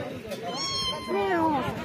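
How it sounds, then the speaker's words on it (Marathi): A cat meows along a forest trail on a monsoon trek at Harishchandragad fort. Two or three close, drawn-out meows rise and fall in pitch, loud and clear. "माझी आवडती मांजर"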